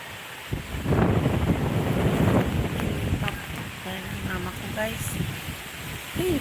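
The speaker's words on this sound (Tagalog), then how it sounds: "hindi muna ako makalabas kasi lakas pa ng hangin" Strong Typhoon Kristine winds roar steadily across the Bicol Region, a dense continuous gusting rush close to the microphone, with a voice speaking intermittently over it.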